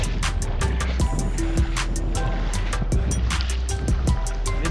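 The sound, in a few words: strong waves around a fishing boat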